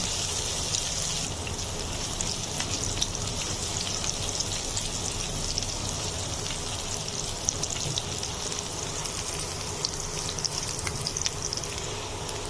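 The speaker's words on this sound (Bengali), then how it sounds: "রসুনগুলো আমি খুব বেশি ভাজবো না লাল লাল করবো না" Garlic frying in a pan with a continuous crackling sizzle, steady and fairly close, with light popping and no voices.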